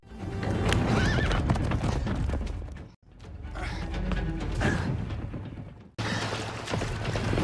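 A horse whinnies and snorts while hooves clip-clop in a dramatic Viking-era scene, loud and close in three continuous stretches with music and effects layered in, and the sound cutting off abruptly between segments.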